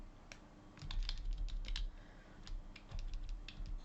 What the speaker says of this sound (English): you can use the arrow keys on your keyboard to move things about